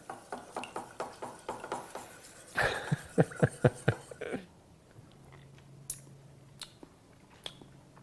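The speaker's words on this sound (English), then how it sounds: "I'm gonna whisk this together in the pan" A whisk scraping and tapping through BBQ sauce in a pan, a fast run of sharp metallic clicks and strokes that stops, followed by a few scattered knocks and a quieter stretch.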